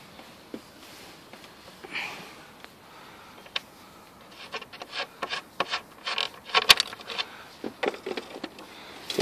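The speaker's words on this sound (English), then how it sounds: "I'm just going to remove those. And as you see, I'm doing it with a simple wrench." A simple wrench turns the battery hold-down nuts on a Ford Contour, giving close metallic ratcheting and scraping clicks that start sparse and grow into a busier run of sharp taps toward the end.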